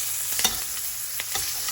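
Continuous sizzle of thyme frying in butter in a steak pan, broken by a few quick crackling pops.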